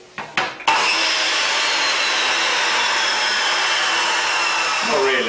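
A chop saw cuts through wood with a loud, harsh, continuous whine that starts abruptly after a few short knocks and holds steady for several seconds, close to the listener and without speech.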